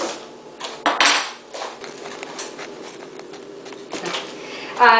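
A fork presses a butter-mixed cheesecake crust into a pan, giving close, irregular scraping and tapping clicks against the pan with short louder knocks.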